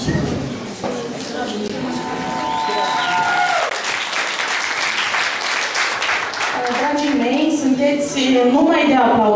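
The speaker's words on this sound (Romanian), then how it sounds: "Încă o dată aplauze pentru echipa care a reușit să facă acest festival." Sustained audience applause at the Music Waves festival in Balti, Moldova, a loud, dense crowd clapping throughout, with shouts and voices mixed in and music tones rising near the end.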